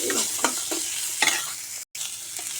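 Cumin seeds and ginger pieces frying in a pan for ginger chutney, a soft steady sizzle broken by a few scraping stirs and brief clatters, with a short silent gap near the end.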